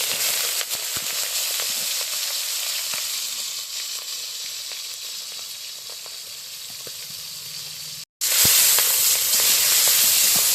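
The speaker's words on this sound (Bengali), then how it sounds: "তেলটা গরম হয়ে গেছে, এবার আমি চিংড়ি মাছগুলো ভেজে নেব।" Prawns frying in hot oil in a wok, giving a loud, steady, close hiss of sizzling with faint crackles, broken only by a very brief gap of silence near the end.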